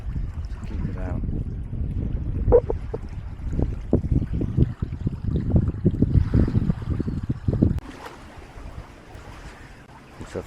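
A sailboat running under its jib on an evening sail, with gusty wind buffeting the microphone over sloshing water and hull knocks; the rush drops abruptly near the end to a quieter wash.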